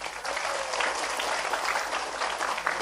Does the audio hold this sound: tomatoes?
no